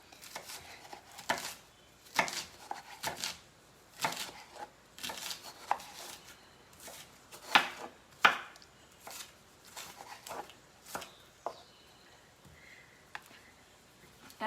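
Steady rhythmic knife strikes on a cutting board as tomato and onion are chopped with a Cutco kitchen knife, close and crisp, with uneven pauses between bursts and no talking.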